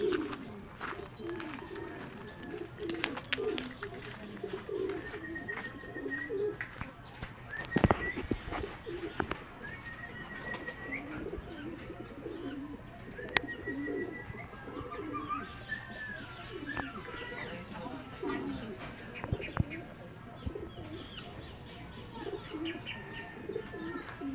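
Pigeons cooing during club training, soft repeated coos and chirps at moderate distance over a quiet outdoor background, with faint voices and a few bumps and wing flaps.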